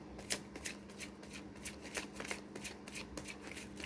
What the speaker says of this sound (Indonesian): sambil saya kocok kartu dan saya baca doa